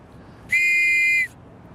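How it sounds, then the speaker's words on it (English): A single shrill police whistle blast of the Metropolitan Police type, steady and piercing, lasting under a second against a quiet background. "He adopted the sound for a whistle he was making for the Metropolitan Police"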